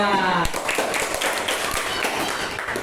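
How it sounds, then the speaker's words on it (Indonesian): A classroom group claps for a presenting group. The clapping forms a steady, dense patter that carries to the end, and a voice is heard briefly just before it begins. "kita kasih aplaus untuk kelompok 2"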